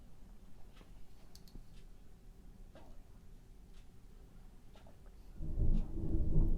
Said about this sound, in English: There's that thunder.